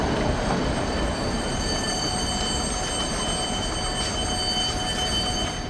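A tram passing through a Kraków intersection, a steady loud rumble of rail wheels with faint high squealing tones running throughout, close by and continuous with no talk.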